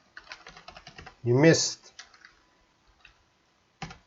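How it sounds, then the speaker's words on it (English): Rapid typing on a computer keyboard, a run of close, light key clicks at the start and again at the end, broken by a short spoken phrase in the middle. "Well, I'm going to type"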